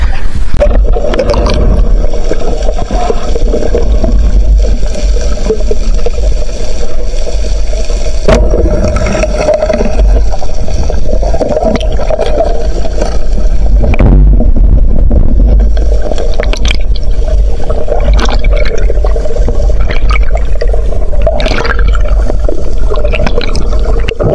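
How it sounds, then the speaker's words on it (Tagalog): A strong river current rushes loudly and continuously, a dense turbulent roar with heavy low rumble and occasional splashes and knocks close by. "Sobrang lakas kasi ng agos."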